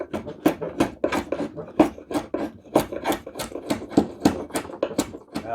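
Rhythmic rasping strokes of a drawknife shaving a live wood edge, about a dozen quick scraping pulls repeating at an even pace, close up.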